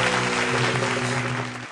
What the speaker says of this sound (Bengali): এক রাউন্ড জোরে হাততালি হোক।